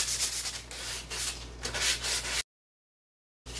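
Light hand sanding over the existing stain coat on kitchen cabinets makes a steady, close rasping rub in repeated strokes, then stops for a second of silence before briefly resuming.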